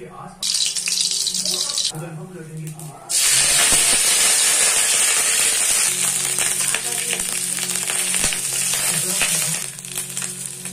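Dried chillies sizzle in hot oil for a khichuri, a steady hissing fry that swells loudly after a quieter start, with brief speech at the beginning.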